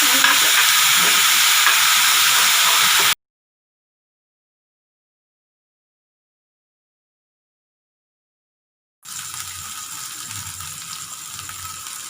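Dry fish chutney stirred in a frying pan, a loud sizzling hiss with scraping stir strokes, then a long silent gap before the frying resumes more softly.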